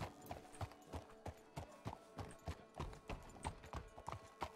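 Horse hooves clip-clop at a steady walking rhythm on a street in the Wild West game RedM, fairly close and clear, with faint background ambience and no talk.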